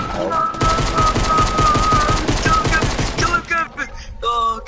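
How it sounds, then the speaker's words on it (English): Rapid automatic gunfire in Fortnite, a dense, loud burst of rattling shots for about three seconds followed by a few scattered sharper reports, with game effects in the background. "Who's shooting? Oh, who's all shooting?"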